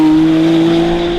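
Novitec-tuned McLaren Artura, 735 hp with a new exhaust system, accelerating in a loud, steady drone of engine and exhaust, a continuous near tone with no break.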